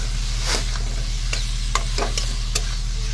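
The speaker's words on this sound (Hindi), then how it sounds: "अब आलू के साथ में भूनेंगे।" Potatoes turning in spiced oil produce a steady hiss over a low constant hum, punctuated by several sharp scraping strokes of a spoon against the pan, close and fairly loud.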